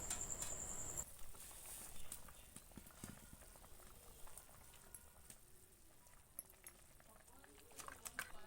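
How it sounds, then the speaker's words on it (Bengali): A pot of fish curry broth bubbles at a soft, steady boil with irregular pops and patters close by, fairly quiet throughout and with no talking. "কিছুক্ষণ পর ঝোলটা ফুটে গেছে।"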